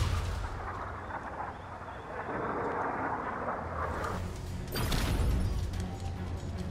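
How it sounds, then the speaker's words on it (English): Rocket strike in a GameBattles video game match, a rolling, rumbling barrage of blasts that swells and booms twice over a few seconds, loud and alone with no talk. "Rocket arriving on site."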